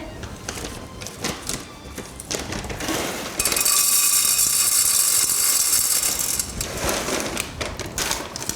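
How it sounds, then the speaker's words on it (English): Dry Maharagwe beans pour into a pressure cooker with a dense, rattling clatter, scattered clinks at first, then a loud sustained rush of beans hitting metal before tapering off. "So we'll add a Maharagwe."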